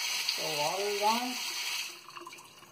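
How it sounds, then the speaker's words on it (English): Water runs from a laundry faucet after the main supply is turned back on, a steady hiss under a voice that fades lower near the end. "so water is on"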